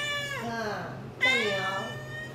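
An abandoned cat meows during a routine veterinary check, two drawn-out, fairly close meows with a short pause between, over a low background hum.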